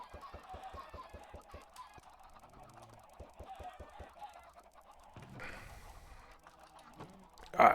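Minecraft chickens struck by thrown eggs give a rapid run of short clucking hurt squawks, regular pops in a quick rhythm with a pause midway, then a brief louder burst near the end.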